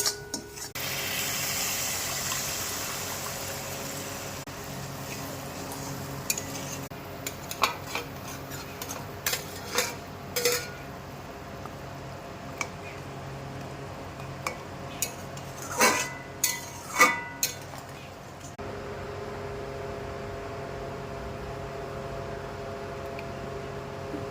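In a pan, black cumin, green and dried chilies and ginger paste are stir-fried for a tel koi fish dish. A steady low sizzle runs throughout, with irregular metallic clinks and scrapes of a spatula against the pan.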